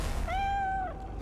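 Cat in the video game Divinity: Original Sin 2 giving a single drawn-out, clear meow with a falling end, over a steady background of game ambience, with no talk over it.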